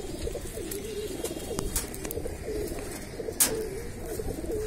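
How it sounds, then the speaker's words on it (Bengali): Racing pigeons coo softly and continuously in a loft, a low repeating murmur against faint background noise, with a few sharp clicks of movement. "এই একটা পাল্লার কবুতর।"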